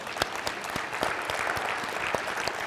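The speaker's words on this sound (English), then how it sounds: "Yes, we should clap for that." Audience at a talent summit welcome session bursting into applause, a steady wash of many hands clapping with sharp individual claps standing out, continuous at moderate level throughout.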